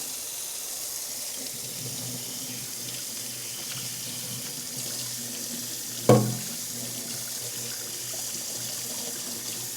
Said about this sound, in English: To clean off the housing, you just run the water over it.